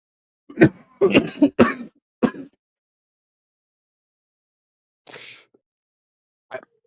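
A fit of harsh, close coughs comes in a quick cluster, then a pause, followed by two more isolated coughs.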